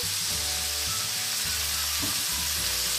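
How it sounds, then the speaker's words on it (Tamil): Cauliflower and pepper fry in a pan with a loud, constant sizzle, a low rhythmic rumble pulsing underneath. "கோலிஃப்ளவர் கொஞ்சம் சேர்க்கிறேன் எல்லாம் சேர்த்து கொஞ்சம் வடங்க விட்டு எடுப்பேன்"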